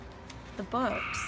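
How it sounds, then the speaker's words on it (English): Loud frogs croaking outside, one clear, close harmonic croak rising briefly over someone speaking indoors. "I'm sorry about the frog noise."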